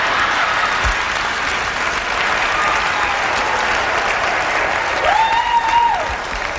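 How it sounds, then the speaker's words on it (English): Sustained audience applause at a BET Comedy Jam show, a dense steady wash of clapping filling the room, with a faint whistle rising briefly near the end. "Minister Farrakhan, another big round of applause"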